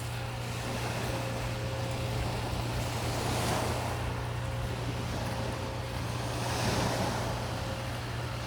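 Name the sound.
waves on a beach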